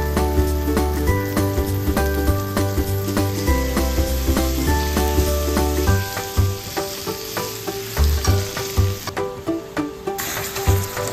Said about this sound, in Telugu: అందులో చికెన్ యాడ్ చేసి చికెన్ని వేపాలి